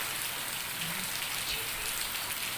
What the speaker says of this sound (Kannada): ಒಮ್ಮೆಲೆ ಮಳೆ ಸ್ಟಾರ್ಟ್ ಆದದ್ದು ನೋಡಿ